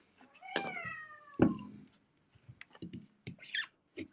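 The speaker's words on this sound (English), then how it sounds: "The cats are really protesting." Cats meowing in protest indoors; two loud, drawn-out meows close by, then softer short mews and chirps trailing off, with no talking.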